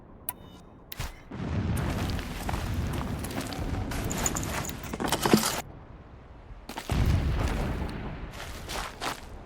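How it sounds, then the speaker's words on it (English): Distant rumbling booms roll in repeated waves in the video game Horizon Zero Dawn, with sharper cracks and bursts scattered among them, in an otherwise quiet setting. "Explosions in the distance."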